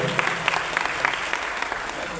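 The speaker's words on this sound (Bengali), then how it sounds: "ওনার জন্য জোরদার একটা করতালি হয়ে" An audience applauds Munna bhai with steady, moderately loud clapping at a business gathering, scattered sharp claps standing out over a continuous wash of hands.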